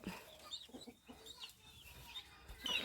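Chickens cluck softly and intermittently in a hot-weather poultry yard, several birds making short scattered calls at moderate distance over faint background noise.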